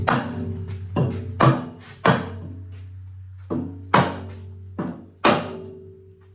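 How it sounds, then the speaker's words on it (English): A dead blow hammer strikes a block of wood seven times at an uneven pace, each tap a close, dull thunk that rings briefly over a low steady hum. "I'm just going to use my dead blow and a block of wood."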